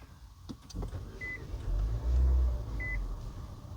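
A Nissan Versa rental car starts up from inside the cabin with two short electronic chimes and a low engine rumble that swells and then settles into a steady hum.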